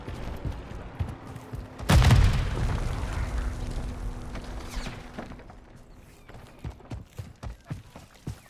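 A grenade blows up in Call of Duty: Modern Warfare III, a single loud, close blast with a deep rumbling tail that fades over several seconds. Quieter rhythmic thuds like footsteps follow, over a faint steady hum.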